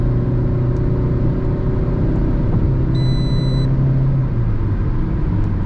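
A Fiat Linea sedan with a 1.3 Multijet 95 hp diesel accelerates in fourth gear, giving a steady, loud cabin drone and engine rumble that holds throughout with no talk over it.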